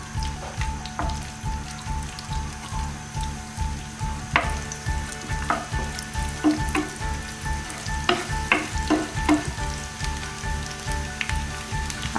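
Chopped garlic fries in hot oil with a bay leaf for red lentil bhuna, a loud crackling sizzle over a low rhythmic pulsing hum, with sharp spatters and stirring clicks scattered throughout.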